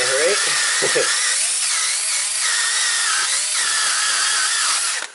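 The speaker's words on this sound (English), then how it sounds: "For the mounting surface, you can just use a little wire cleaning wheel." A small wire cleaning wheel on a power tool grinds rust off a Subaru hub mounting surface, a steady high whirring rasp running throughout, with a voice briefly heard near the start.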